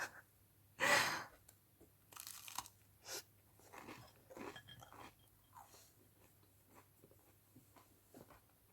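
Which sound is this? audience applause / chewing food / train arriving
chewing food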